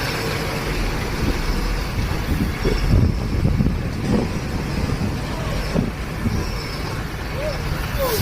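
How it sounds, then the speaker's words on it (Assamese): A concrete machine works at a road construction site on a windy, rainy day, its steady low engine rumble running throughout, heavily mixed with gusting wind buffeting the microphone, with voices nearby. "এইবিলাক মেচিনবিলাক চাই ভাল লাগে। কনক্ৰিট মেচিন হয় এইটো।"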